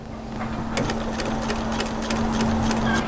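A sewing machine stitches bias binding onto plain black fabric for a camisole, running in quick rhythmic bursts of needle clatter over a steady motor hum, close and moderately loud.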